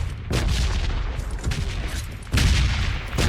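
Gunfire in the PUBG video game, with dense, loud bursts of shots coming in waves and a sharp, louder volley partway through, and no talking over it.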